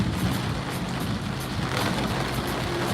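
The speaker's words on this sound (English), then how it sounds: "It's really raining." Heavy rain pours down steadily in a dense, constant roar that stays loud and even throughout, with no voices over it.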